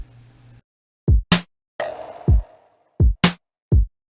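Several short TR-808-style trap snare hits from a u-he Bazille synth, each punchy thump or snappy burst trailing into a long fading release tail, spaced irregularly with silences between.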